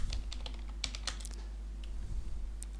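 Typing on a computer keyboard indoors, a quick run of close, light key clicks in short bursts over a steady low hum, with no talk.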